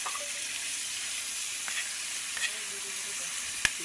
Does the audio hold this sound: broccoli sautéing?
yes